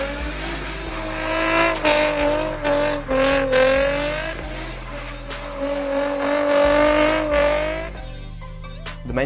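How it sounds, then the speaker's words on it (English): An Infiniti G35 rear-wheel drive car with a manual six-speed skids, its engine revving loud and steady throughout with tire squeal layered over the drone, no talk heard. "rear-wheel drive cars are very fun, especially when it comes to doing skids,"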